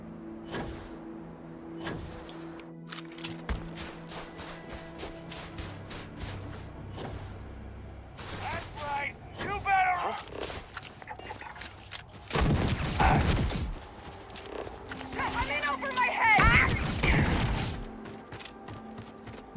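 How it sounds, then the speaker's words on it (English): Scattered shots in the space game Starfield, some sharp isolated cracks and a few louder bursts spread across a quiet, sparse stretch with mechanical noises between them. "which one of you assholes out there was shooting at me?"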